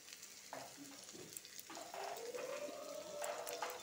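Potatoes fry in oil with salt and turmeric, a quiet, steady sizzle under intermittent soft stirring knocks and scrapes, with a faint rising tone partway through.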